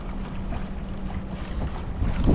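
An electric trolling motor running at 80% throttle, moving a boat at about 3.5 miles per hour, gives a steady low drone mixed with water wash and wind noise buffeting the microphone.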